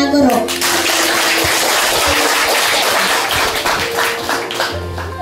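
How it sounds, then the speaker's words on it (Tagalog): Loud, dense applause from a graduation crowd honoring the teachers, steady clapping filling several seconds with a voice briefly heard at the start. "Classmates, malakas na palakpak para sa ating mga guro."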